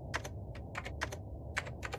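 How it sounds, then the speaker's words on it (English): Old computer keyboard clicking at a terminal in a sci-fi horror co-op video game, with rapid clustered keystrokes in short irregular bursts over a low background hum. "Like, the ancient-ass keyboard clicking noise."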